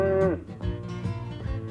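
Cartoon cows give a long, close moo followed by softer lowing calls, set against light background music in a 1990 children's animated show.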